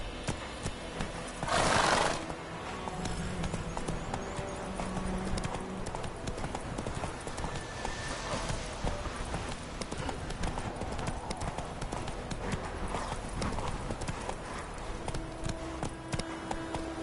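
Hooves of the horse Roach in a video game clip-clop in a fast galloping rhythm, with a loud whinny near the start. A rider's voice speaks briefly over the steady hoofbeats.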